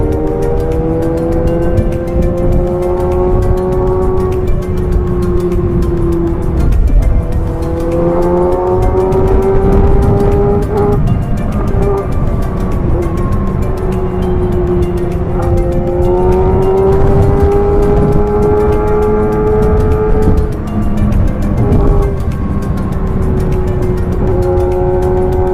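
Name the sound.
Kawasaki, Suzuki and Honda motorcycles riding off in a group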